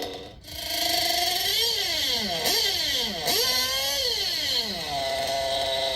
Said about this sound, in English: Just give it a couple more revs here to kind of show you what I listen to in my engine.